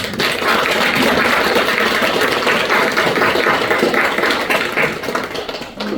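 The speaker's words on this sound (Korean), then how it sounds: "우리 다시 한번 우리 상당교회 색소폰 선교단을 위해서 박수 한번" Sustained applause from a church congregation after a saxophone ensemble's performance, dense and steady for the full length, with clapping fading slightly toward the end.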